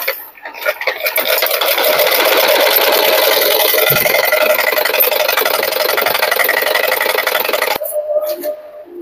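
A sewing machine stitches blouse fabric in one continuous whirring, rattling run of rapid needle strokes, close and fairly loud, stopping abruptly near the end.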